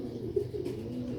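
Sialkoti pigeons coo in low, soft murmuring calls with a few brief swells, close by and steady over a quiet background.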